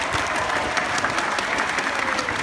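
An audience at an amusement park press event for a new ride gives a burst of steady, dense applause for a speaker. The clapping is sustained and even throughout, with no voices standing out.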